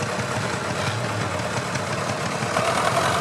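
A diesel tractor engine runs steadily with a rough, knocking chug, loud and close, with no voices.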